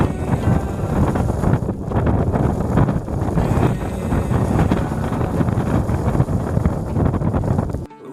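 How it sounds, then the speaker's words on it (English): Strong wind buffets the microphone on a canoe expedition in the Ten Thousand Islands, a loud, continuous roaring rumble that cuts off abruptly at the end. "the wind was blowing strong"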